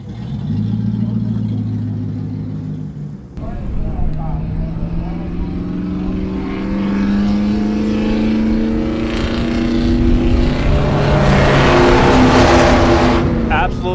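Duesenberg car engine idling and revving loudly at a drag race exhibition of speed, rising in pitch toward the end, with people talking over it.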